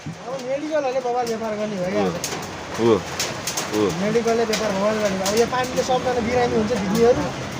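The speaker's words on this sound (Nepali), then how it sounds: "उयो चराहरू क्या रमाइरहेको यार" Pigeons cooing nearby in repeated soft, warbling phrases, a near-continuous stream of rising and falling coos, with a person speaking at the same time.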